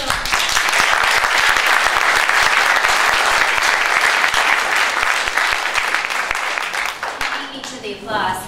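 A large audience at an evening panel event on the Quebec student strikes breaks into sustained, loud applause that fills the room for several seconds, then gradually thins out and fades away toward the end.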